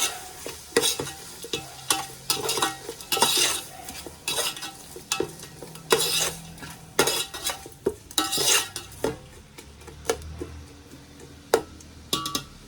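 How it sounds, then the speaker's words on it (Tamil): A spoon scrapes and clinks in a pan while tomatoes sauté in ghee for a Lucknowi biryani, a quiet sizzle beneath irregular close metallic stirring knocks, with no talk. "இப்படி 2 டீஸ்பூன் நெய் சேர்த்துக்கிறேன். சேர்த்துட்டு நல்லா வதக்கலாம்."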